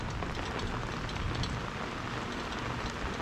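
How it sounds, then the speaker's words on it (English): Heavy afternoon monsoon rain pours down steadily, a dense, even hiss of drops hitting the ground, loud and continuous with no voices. "pouring rain in the afternoon, enough to totally wet the ground and give everything a nice watering"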